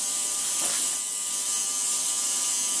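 A record cleaning machine runs a slow rotation cycle at 1.5 RPM, giving a steady mechanical whir with a faint ratcheting texture, close and continuous without speech.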